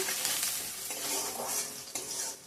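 Onions fry and are stirred in a pan while cooking a yam curry with fish, a loud continuous hiss broken by a few scraping stirs, close up.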